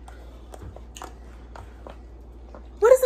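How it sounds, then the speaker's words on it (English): Close-up chewing right against the microphone: soft, wet crunches and bites come in an irregular series, fairly quiet, before a louder burst of sound at the very end. "What is that you chewing all loud in my ear?"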